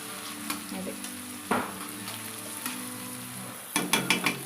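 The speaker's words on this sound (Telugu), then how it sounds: "ఇది బ్రౌన్ కలర్ వచ్చేంత వరకు ఫ్రై చేసుకుందామా." Fenugreek leaves and tomato fry in a pan under a soft, steady sizzle, with a spoon scraping and stirring now and then, including a quick burst of stirring strokes near the end.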